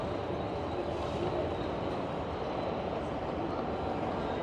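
An Egyptian Railways train at a station on the Cairo to Alexandria line gives a loud, continuous rumble and roar that stays close and steady without clear breaks.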